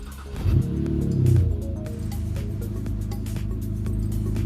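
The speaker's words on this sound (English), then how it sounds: "All right, let's start her up." A BMW N52 car engine cranks and catches, then settles into a steady, close idle after a power steering pump and reservoir replacement and fluid fill.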